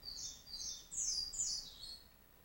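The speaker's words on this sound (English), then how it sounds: "There's the Yellow Warbler song." Yellow Warbler song, a bright high-pitched series of sweet warbled phrases in three quick bursts, heard clearly and fairly faint with no other sounds.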